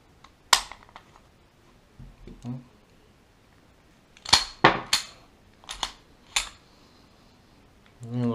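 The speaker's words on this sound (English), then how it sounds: "I'm going to go ahead and clear the" A handgun is cleared, with several sharp metallic clacks and clicks as the slide is racked and worked, loud and close in short clusters, with a faint voice briefly in between.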